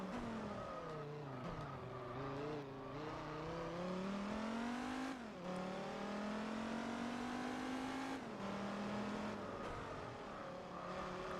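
A race car in Gran Turismo 4 runs on slightly worn tires, its engine note climbing and dropping through gear shifts as it accelerates and brakes. The whine is steady, fairly quiet and uninterrupted, with no talking.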